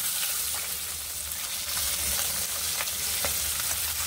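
Koi fish frying in hot oil, a dense continuous sizzle with scattered crackles and pops, close and steady throughout.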